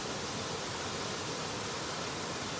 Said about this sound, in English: Waterfall sounds amazing.